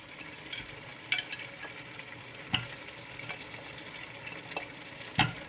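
Beef goes into a pot for a Nigerian efo riro vegetable stew, giving a low steady sizzle punctuated by several sharp utensil taps and clinks against the pot at irregular intervals.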